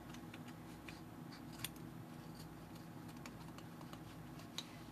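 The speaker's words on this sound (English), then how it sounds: "we're going to cut our yarn between these two layers of cardboard. Be super careful with your scissors" Scissors snip through thick yarn wound between two layers of cardboard, giving faint, scattered clicks and crunches over a steady background hum.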